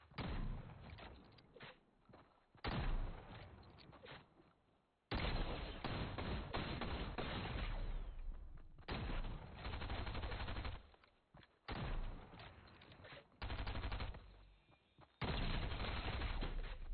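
Video game gunfire from a weapon that needs frequent reloading, loud bursts of rapid shots in repeated clusters separated by short pauses, close and harsh.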